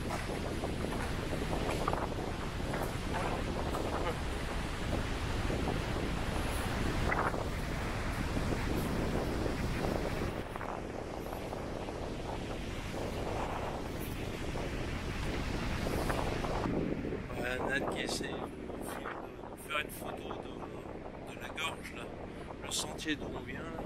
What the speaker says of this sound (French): T'as bien un vent de tous les diables